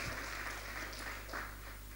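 Congregation applauding inside a church during a Passover service, a soft, steady wash of many hands clapping at a distance, fairly faint over a constant low hum.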